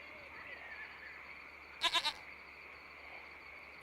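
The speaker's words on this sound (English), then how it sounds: "Goats eat green things, don't they?" A goat in the video game Lost Horizon gives a short, quavering bleat of three quick pulses, clear and alone over a quiet background hum.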